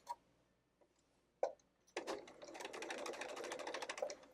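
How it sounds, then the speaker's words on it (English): A sewing machine restitches a pillowcase seam at a quarter-inch allowance, starting with a few isolated clicks before settling into a steady, rapid stitching rhythm that runs to the end. "We're going to re-sew this seam, but we're going to do it with a 1/4 of an inch seam allowance this time."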